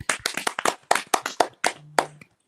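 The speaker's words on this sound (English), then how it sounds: "Big round of applause for everyone." Sparse clapping from a small audience at a live comedy show, about a dozen distinct, separate claps in an uneven rhythm that trails off into silence.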